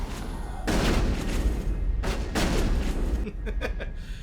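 Shotgun blasts from the video game Mass Effect come as dense, loud bursts of gunfire in close succession, with a brief lull between volleys.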